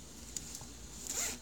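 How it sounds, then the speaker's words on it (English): A zipper on a children's fabric quiet book is pulled open in a few short, close scratchy zips, ending in one longer rasping pull. "Can you pull the zipper open?"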